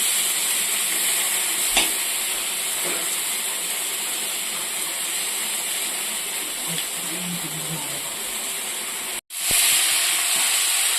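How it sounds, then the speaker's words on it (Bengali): Steady frying sizzle from drumsticks and potatoes in a hot pan, a continuous hiss with occasional stirring scrapes; a brief sharp cut near the end. "সজনা আলু একটু সুন্দর করে ভাজা হয়ে গেল"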